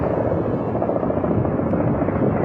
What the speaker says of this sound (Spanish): Suena un helicóptero